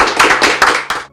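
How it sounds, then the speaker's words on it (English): An audience applauds for Taylor at a live-streamed reality show event: a short, dense burst of clapping with a few louder accents, ending abruptly after about a second. "Round of applause for Taylor."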